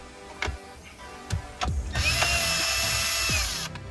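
Power drill backing out 8mm bolts from a Honda Element dashboard during a radio install, with short clicks and handling noises followed by a sustained whirring run of about two seconds, close up.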